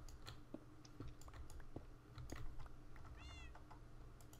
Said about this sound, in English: I'm hearing one of the evil cats.